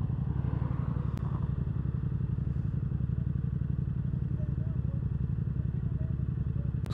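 A Yamaha MT-07 motorcycle rumbles steadily while ridden through traffic, its low engine drone continuous and close under wind, with a couple of sharp clicks and speech over it.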